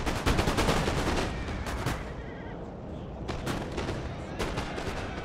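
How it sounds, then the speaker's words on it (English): Massed musket volleys crackle in Napoleon Total War, a dense ongoing fusillade of overlapping shots with heavier booms mixed in, loud and continuous without a pause. "All units and fire at will."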